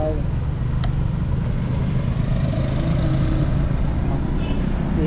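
A motorcycle engine labours steadily while climbing a slope, a continuous low rumble that stays close and fairly loud throughout, with no voices over it.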